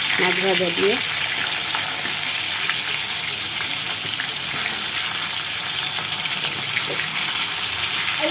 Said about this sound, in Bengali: এখন আমি মাছ ভাজছি